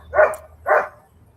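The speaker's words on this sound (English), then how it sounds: "and my neighbor's dog's going to bark." Two distinct woofs from a neighbor's dog, evenly spaced and moderately loud, stand alone against quiet background hum.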